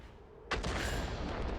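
A heavy artillery gun fires in a tank battle video game, one sudden loud boom after a quiet lead-in, followed by a rumbling tail that stays loud to the end.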